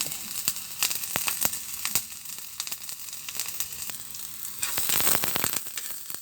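Chopped garlic frying in a hot pan for a tapsilog-style breakfast, a close, continuous crackling sizzle with scattered sharp pops throughout and no talking.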